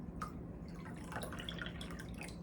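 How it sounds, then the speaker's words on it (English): Water is poured, apparently into a cold mug, as a faint trickle with scattered drips, heard alone against a quiet room. "First, I'm gonna add water."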